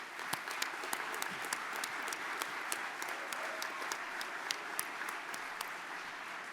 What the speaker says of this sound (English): Let's have one more round of applause, if we might, for all of our award honorees.